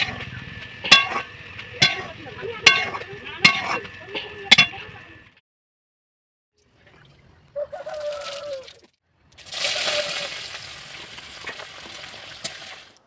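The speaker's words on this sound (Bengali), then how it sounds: "লবণ হলুদ মাখিয়ে কড়াইতে তেল দিয়ে চিংড়ি মাছটাকে ভেজে আমি তুলে নেব এবার।" Salt-and-turmeric-coated shrimp frying in oil in a wok: a run of sharp, evenly spaced knocks, then a short quiet gap, then a steady, close broadband sizzle that carries on to the end.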